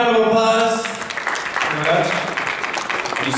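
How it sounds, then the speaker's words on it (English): Audience applause for a guest, a short burst of clapping fading out as a voice talks over it. "give him a round of applause"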